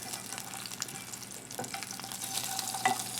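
A trout fillet frying in a pan just after being flipped, its skin crisping. A steady close sizzle runs throughout, scattered with sharp pops and crackles, and no one speaks.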